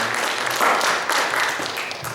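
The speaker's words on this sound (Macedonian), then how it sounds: "Голем аплауз за Горан Даневски." An audience applauds in a hall at a book launch event in Macedonia, a brief, steady burst of clapping from many hands that fades slightly toward the end.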